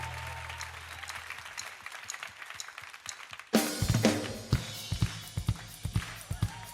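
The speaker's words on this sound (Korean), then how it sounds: "우리 힘차게 손뼉 치면서" Church congregation clapping together in time during a revival service, a brief quieter stretch giving way to loud, rhythmic claps that ring out close in the hall.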